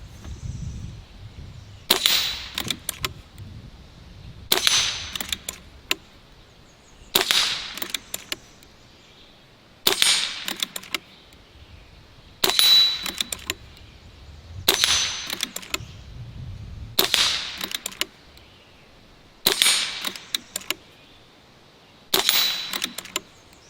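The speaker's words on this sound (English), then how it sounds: "I want to put 3 round groups on each of my Pendulum steels" Barra 1100z Gen II air rifle firing rapid shots at pendulum steel targets, nine sharp cracks each followed by a bright metallic ring, spaced in a steady rhythm of roughly one every two and a half seconds, with quiet gaps between.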